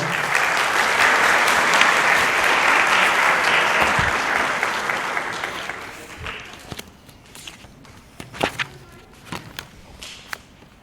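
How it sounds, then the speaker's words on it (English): Dense audience applause for contestants at the 2019 Herbstfest Queen Pageant, loud and sustained for about five seconds, then thinning into scattered claps and footsteps before fading. "one last round of applause for our contestants tonight"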